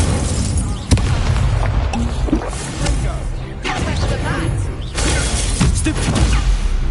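Incendio fire spell cast in the video game Hogwarts Legacy: loud booming bursts and whooshing fire blasts over dense game action, with several sharp impacts spread across the stretch.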